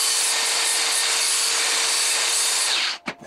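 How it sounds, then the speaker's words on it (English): Flap disc on an angle grinder smoothing the sharp edges of welded steel catapult parts, a steady loud abrasive whine that cuts off near the end, followed by a few brief knocks. "we're gonna clean them up with a flap disc. Just gonna very gently go around the edge."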